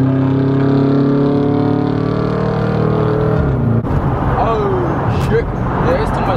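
Dodge Charger SRT8 engine revving and accelerating in traffic, a loud close harmonic drone rising steadily in pitch for several seconds, then breaking into rough broadband road and wind noise.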